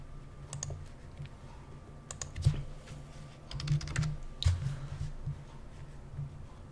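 Typing on a computer keyboard, irregular clusters of soft clicks and taps heard close but quiet over a low steady room hum.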